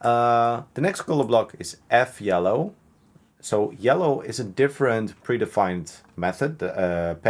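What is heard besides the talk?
No distinct noise like a dog, phone or traffic.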